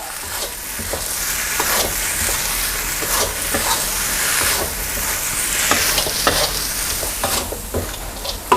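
Dried shrimp, cut chives and bean sprouts stir-fried for pad thai: a loud, continuous sizzle with frequent stirring scrapes and clatters, and no talking.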